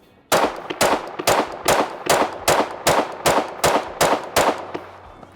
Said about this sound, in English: I'm going to demonstrate close quarters retention shooting